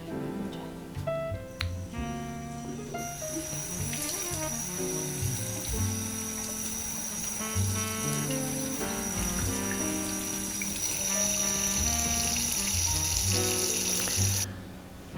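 Tap water runs steadily into a kitchen sink while shelled field peas are washed, a soft continuous splash with light clinks and rattles, fairly quiet and with no speech.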